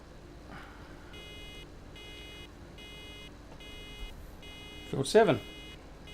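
Repeated short electronic warning beeps in Farming Simulator 17 during a hay baling session, sounding in a steady on-off pattern, faint and thin, with someone speaking briefly near the end.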